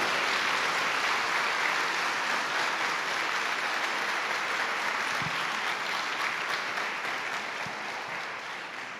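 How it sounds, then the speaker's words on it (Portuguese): A church congregation breaks into loud, sustained applause that fills the room and carries on steadily for several seconds with no voices over it. "Diga amém e aplauda bem forte,"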